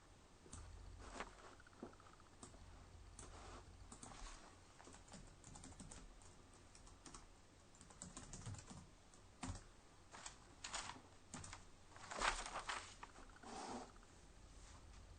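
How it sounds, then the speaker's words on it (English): Typing on a computer keyboard, a fast, steady patter of soft clicks running for several seconds over a faint background hiss, with no speech. "Let me type that in."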